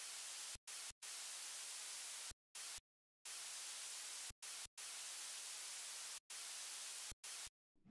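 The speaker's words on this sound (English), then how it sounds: "And some white noise." Bursts of synthesized white noise, loud and broadband, chopped into segments by abrupt short silences in an uneven rhythm, in a progressive house track made in FL Studio.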